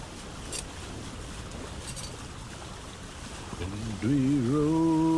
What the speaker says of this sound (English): The storm, it caught us.